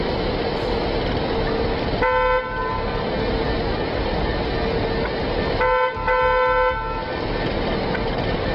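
A car horn honks on a road in two loud blasts, each a second or so long, heard over continuous heavy traffic noise.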